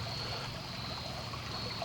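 Water rushes steadily over rapids between rocks in Marsh Creek, a continuous close broadband roar and trickle with no breaks and no voices.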